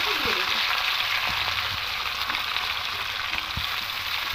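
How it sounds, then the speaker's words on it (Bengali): Beans and chopped carrot fry in a pan for vegetable fried rice, giving a steady, close sizzle with a few soft stirring knocks and no talking. "এবার এটাকে হালকা একটু ভেজে নেব"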